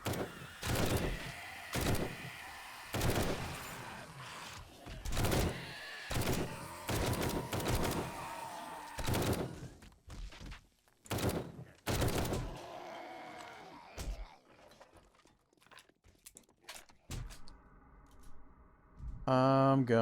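Gunfire in the survival video game 7 Days to Die rings out as a rapid series of loud, sharp shots, thinning into scattered single reports and game noises toward the end.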